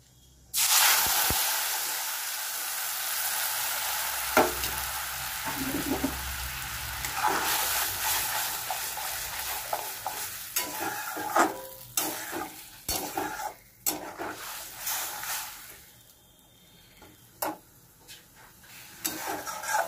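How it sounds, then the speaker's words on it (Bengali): Mustard paste, coconut paste, green chilli and turmeric hit hot oil tempered with dried red chilli and nigella seeds, bursting into a loud hiss that settles into steady frying with repeated scraping stirs and clinks. "এবার দেবো সর্ষে, নারকেল বাটা আর তার সঙ্গে কাঁচা লঙ্কা আর হলুদ।"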